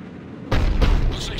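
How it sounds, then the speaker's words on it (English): Cerberus cannon firing in Mass Effect 3, a sudden loud deep boom that cuts in after a brief quiet lead-in, followed by a rumbling roar that stays heavy and close to the end. "Looks like Cerberus got that cannon operational, Commander."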